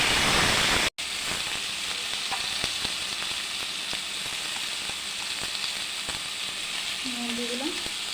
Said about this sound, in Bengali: সবজি রান্না করছি, গোটা জিরে ফোড়ন দিয়ে দিলাম।